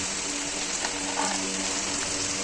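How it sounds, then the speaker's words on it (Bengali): Finely chopped onion sizzles steadily in hot oil with ginger, garlic and chilli over a high flame, a loud, close, continuous fry with faint stirring scrapes. "পেঁয়াজ দেওয়ার পর ভালো করে একটু নেড়ে চেড়ে নিতে হবে।"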